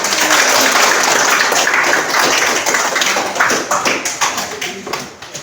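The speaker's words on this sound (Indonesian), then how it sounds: "Baik, kita tepuk tangan untuk kelompok 1." A classroom full of people clapping together after a group presentation, loud and dense at first, then thinning into scattered claps that fade toward the end.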